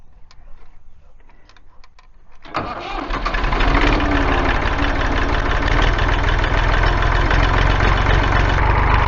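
Massey Ferguson 231 tractor engine cranking and catching after a couple of quiet seconds, then settling into a loud, steady, close-up idle that runs to the end with no talk.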